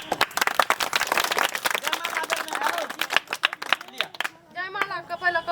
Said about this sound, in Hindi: ताली मारियो